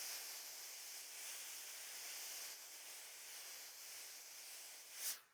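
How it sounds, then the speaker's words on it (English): A very steamy iron hisses steadily while quilt binding is pulled through and pressed flat, a continuous close broadband hiss with a brief sharper burst near the end. "Every so often I have to give my fingers a break from the steam. I have a really steamy iron."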